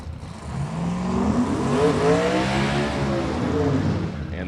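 A supercharged Chevy Nova at a drag racing event roars loudly and steadily, its engine note rising and sweeping through the run with a broad, continuous blast.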